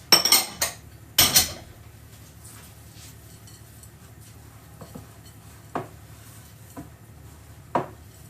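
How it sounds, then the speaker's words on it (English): Seeds are stirred into sourdough cracker dough in a bowl, with a few sharp clinks of a utensil against the bowl at the start, then softer scraping and occasional taps, close and fairly quiet. "So I'm just going to mix that in, but at this stage I'm also going to just chuck in those seeds."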